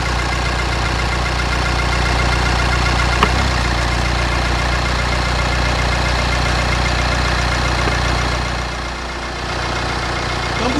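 A car engine idles after a jump start on a winter battery check. A steady, loud low hum runs unbroken with one brief tick near the start and a slight dip toward the end.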